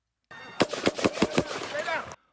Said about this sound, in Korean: 좀 더 큰 소리의 총격음이 이어집니다.